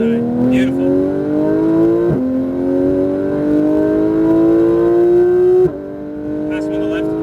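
A Porsche 991 GT3 RS accelerates hard on a race track, its engine note climbing steeply through each gear with sharp pitch drops at two upshifts, loud and close, with a voice briefly heard.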